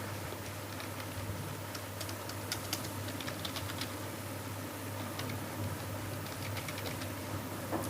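Keystrokes from typing on a computer keyboard, a steady run of soft, irregular clicks heard fairly close over a low constant hum, with no talking.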